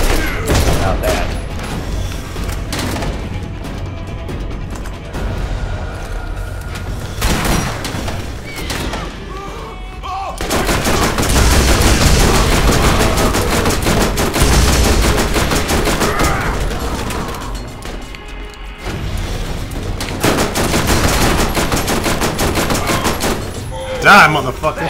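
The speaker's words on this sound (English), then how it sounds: "my machine gun has shock on it" Dense bursts of automatic gunfire and explosions from the video game Borderlands, loud and sustained with short pauses, while a player talks over the shooting.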